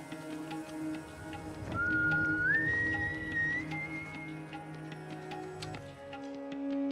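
A single drawn-out whistled note slides upward and holds for a couple of seconds over soft ticking and background noise.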